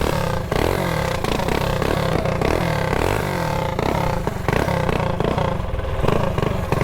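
A mini bike engine with a burnt-up clutch runs steadily and loudly up close, its rough motor drone broken by rhythmic clattering and scraping pulses.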